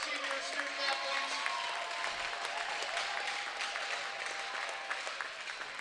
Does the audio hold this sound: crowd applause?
yes